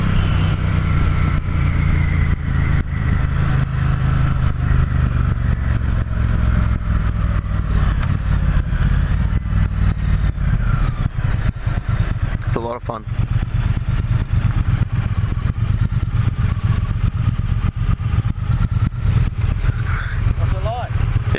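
A 2016 Triumph T120 motorcycle engine runs continuously at a steady idle, loud and close throughout, with brief clatter partway and someone talking over it.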